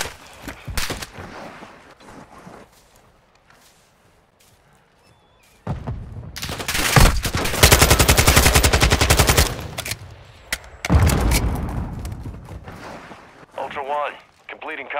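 Gunfire in Call of Duty Warzone 2.0 sounds as sharp single shots, then sustained rapid automatic bursts crackling loud and close over several seconds, with in-game voices calling out between them.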